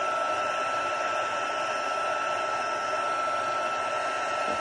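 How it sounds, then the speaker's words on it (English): Heat gun blowing steadily on embossing powder, a constant loud airy whoosh with a humming tone throughout, no voices. "So I'm just going to heat that up, and the heat gun's cold."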